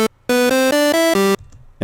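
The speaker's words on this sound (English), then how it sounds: "And we get this type of square saw wave fusion type sound." A synth lead built from inverted saw oscillators gives a bright, buzzy square-saw fusion tone, played as four loud sustained notes stepping upward, then a fifth lower note, alone and up close.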